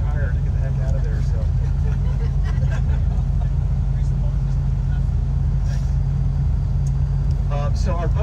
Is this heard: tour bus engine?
yes